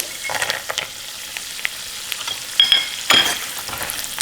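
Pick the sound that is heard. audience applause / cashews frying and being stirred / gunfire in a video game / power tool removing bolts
cashews frying and being stirred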